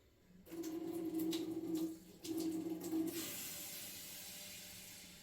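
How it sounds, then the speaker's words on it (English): Water poured into a hot pan just emptied of bacon grease, a loud sizzling hiss in two close bursts that fades into a long, quieter steaming hiss. "I'm going to add water."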